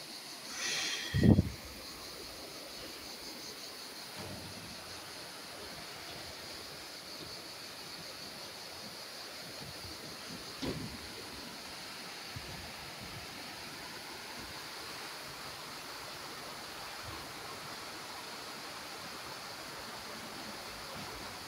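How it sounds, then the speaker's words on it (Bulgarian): Water of the Strumica river flows under a bridge, a steady broadband rush that runs evenly throughout, with a brief louder knock near the start and no talk. "река Струмица."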